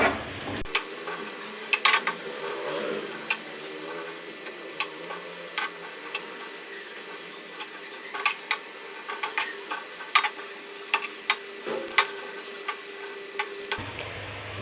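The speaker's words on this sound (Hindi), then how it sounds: "गोल्डन कलर आने तक हम इसको फ्राई करते रहेंगे और चम्मच हिलाते रहेंगे।" Onions frying for a fish curry as a spoon keeps stirring them in the pan: a steady close sizzle with scattered light clicks and scrapes of the spoon throughout.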